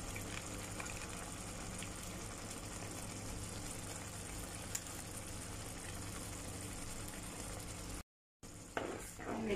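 Tomato sauce being poured into a hot pan for spicy Spanish sardines pasta, a steady wet sizzle and frying hiss running continuously at close range, with a brief cut near the end before the cooking noise resumes.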